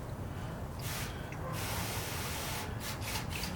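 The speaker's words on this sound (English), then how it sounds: "I just use this sprayer, which tends to spray quite a bit" A hand sprayer mists clay lube onto a car's painted panel, ahead of claying with a Griot's synthetic clay. The spray gives a steady, close hiss that runs almost unbroken, with brief lighter gaps and puffs near the end.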